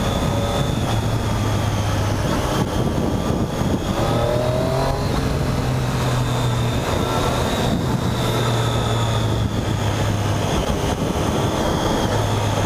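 A Triumph 675 Street Triple motorcycle rides along at steady speed, its engine droning with a vibrating buzz under heavy wind and road noise, with slight rises in pitch as it pulls.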